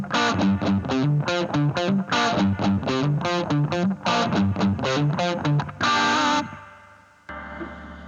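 Electric guitar played through a Fender Vaporizer amp with reverb set around noon: a steady run of loud, distorted, rhythmic strummed chords, then a held chord whose reverb tail rings out and fades once playing stops.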